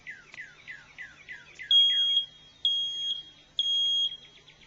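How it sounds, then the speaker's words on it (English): A smoke alarm shrieks in three loud, steady piercing beeps, each lasting about half a second, following a brief burst of chirping. "always test your smoke alarm weekly."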